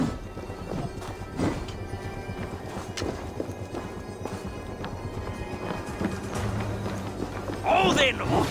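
Horses in the Assassin's Creed Valhalla video game, steady clip-clopping hoofbeats close by, with a short whinny near the end, under voices and battle noise.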